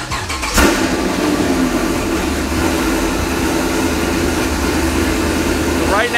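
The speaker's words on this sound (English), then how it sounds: "So now I'll start the car up, hopefully." A Procharged Chevrolet Camaro engine cranks and catches with a sharp burst, then settles into a steady, loud idle rumble, with a faint higher whine appearing near the end.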